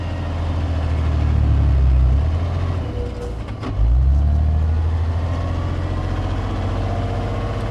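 Heavy truck fitted with an Eaton CEEMAT transmission climbing a steep grade, its loud low diesel drone steady, dipping briefly mid-pull as if shifting, then resuming under load.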